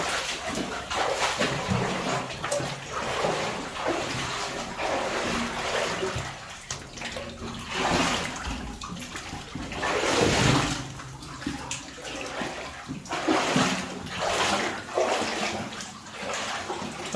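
Water pouring and splashing into a flooded mine adit, a steady broadband rush that stays loud and close throughout, with surges and splashes rising and falling over it.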